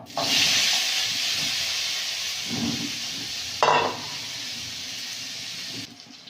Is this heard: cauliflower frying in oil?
yes